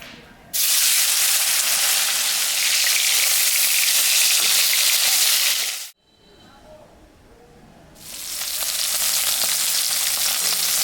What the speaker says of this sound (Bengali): কড়াই তেল গরম হয়ে গেছে আমি এখন মাছটা ছাড়বো